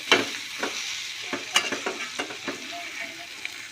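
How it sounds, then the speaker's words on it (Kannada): Squeezed dill greens being stirred by hand into boiling sambar, a run of soft wet squelches and splashes over a steady bubbling sizzle, close and moderately loud, with no voices. "ಕೈ ಆಡಿಸಿ ಮೇಲೆ ಕೆಳಗೆ ಮಾಡಿ ನೀಟಾಗಿ ಕೈ ಆಡಿಸ್ಕೊಳ್ಳಿ"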